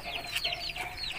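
An aseel hen gives soft, quick clucks at close range over low background noise, faint and brief, with no one talking.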